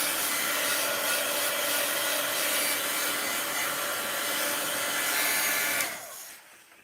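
Hair dryer blowing steadily on wet paint in an art journal, a loud continuous broadband whoosh for about six seconds that cuts off abruptly near the end.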